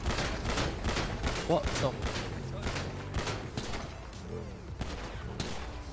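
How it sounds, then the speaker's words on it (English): Gunfire in the video game GTA 5 during a high-speed superbike police chase, repeated sharp shots in irregular bursts over a noisy background, with a startled voice speaking briefly. "Shoot the F1 thing so it goes on fire and destroys your bike."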